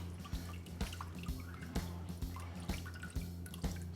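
Brine water drips and splashes off a whole chicken lifted from a bucket, a steady run of close, distinct drips and trickles in an irregular rhythm, with no talking.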